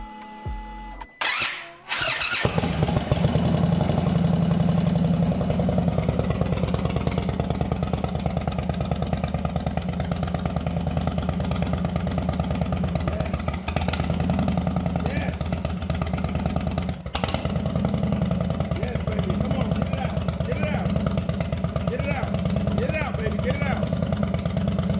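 An old Indian Chief motorcycle cranks, fires and settles into a loud, steady close idle with a throbbing low rumble that holds for over twenty seconds, with talk over it.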